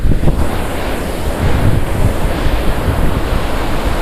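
Water rushes continuously off rocks at a mountain waterfall in hot weather, a loud, steady broadband roar with gusts of wind buffeting the microphone, no voices heard.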